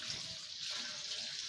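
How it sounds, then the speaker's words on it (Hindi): Water trickling slowly from a partly opened tap into a bottle, a faint steady hissing flow heard close by and alone. "नल तो इतना ऐसा लगाया है कि वो पूरा हल्का खोलो तो वो नल वो पानी थोड़ा थोड़ा आ रहा है, तो बोतल इतनी देर में भर रही है।"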